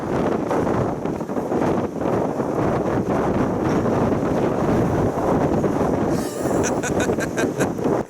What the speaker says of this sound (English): I can hear the wind whistling between the strings, the rope that hold onto the masts.